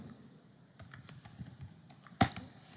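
Rapid typing on a computer keyboard while writing a program, with quick irregular key clicks and one louder keystroke near the end, close and clear over low room hiss.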